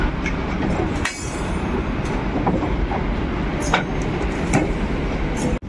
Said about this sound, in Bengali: এই মুহূর্তে ববিয়ান লোড পাথরের গাড়ি আহিরন ব্রিজের দিকে যাচ্ছে